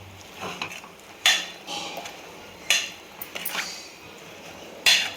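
Spinach dal is mixed in a pot with a utensil, giving three sharp clanks against the metal spaced a couple of seconds apart, with softer scraping and stirring between them.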